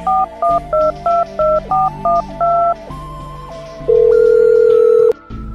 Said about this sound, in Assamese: ৰবা মই মন্টু মামাক ফোন কৰ